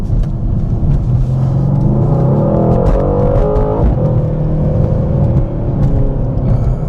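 A Mercedes-Benz C63 AMG facelift V8 in Sport Plus mode rumbles close by, with a deep steady engine note that rises in a brief rev in the middle before settling back to a loud idle-like drone.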